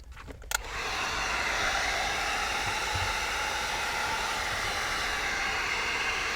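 A heat gun blows a steady, loud, hissing roar while heating window tint film on a 2019 Toyota Tacoma, starting after a few brief clicks and continuing without a break.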